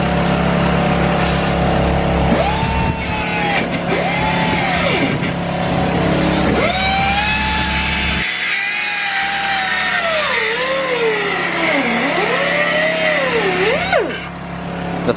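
An impact gun rattles while removing engine mount bolts during a Mazda FD RX-7 build, giving a loud, sustained mechanical whir with a shifting pitch and no talking.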